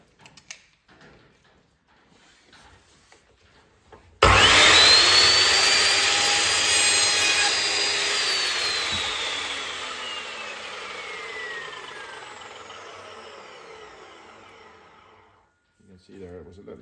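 An Evolution R355 steel chop saw starts abruptly and cuts through a pipe with a loud, harsh, whining grind. It winds down gradually over about ten seconds, and faint talk can be heard before and after the cut.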